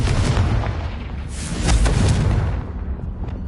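A Confringo blasting spell goes off in a video game as a loud, booming explosion that rolls on for a few seconds, swelling at its peak and then fading out.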